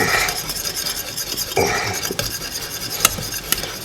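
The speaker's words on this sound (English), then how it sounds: "just get it, whisk it in there" A whisk scrapes and stirs gravy in a metal pot close up, with continuous swishing, occasional clinks against the side and a few sharper taps.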